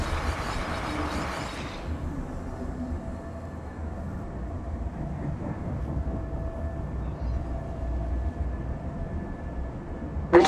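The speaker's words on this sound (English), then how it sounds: "The train is departing." A train departing in the video game Apex Legends, a low steady rumble with a faint tonal hum that holds level and alone after a brief burst of noise at the start.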